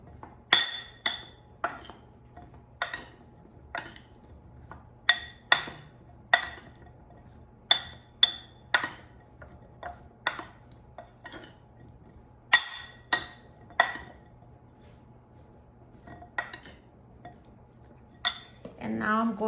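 Gnocchi tossed with olive oil in a bowl, sharp metallic clinks and taps of a utensil against the bowl repeating irregularly every second or so, close and distinct over a quiet background.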